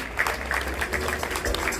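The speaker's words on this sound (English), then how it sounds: "Please let us join our hands and clap for him." An audience claps at a school skills exhibition and harvest festival, a fairly soft, continuous patter of many hands heard from a little distance over a short stretch.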